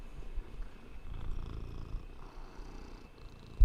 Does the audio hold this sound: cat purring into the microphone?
yes